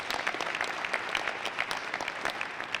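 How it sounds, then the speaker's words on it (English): Audience applause at a boxing promotions press conference in Branson, a dense steady wash of many hands clapping at moderate level throughout, with no talk over it. "Give Mike Lugo a big round of applause."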